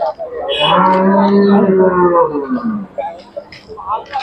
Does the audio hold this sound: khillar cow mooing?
yes